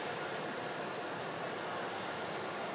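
A jet airliner taxis near an Airbus A380 at an airport, giving a continuous, loud broadband engine roar that holds steady throughout.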